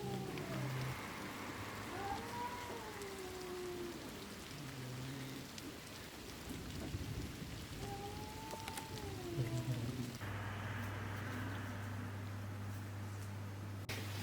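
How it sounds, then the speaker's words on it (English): Cats meow back and forth indoors, several drawn-out rising and falling calls spaced a few seconds apart, moderately faint over a steady hiss like rain. "They're like meowing at each other."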